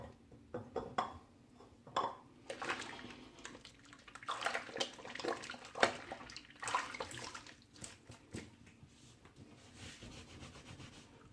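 Shaving brush lathering soap with water, a soft continuous wet rubbing and swishing with irregular strokes, fairly quiet and close, with no talk.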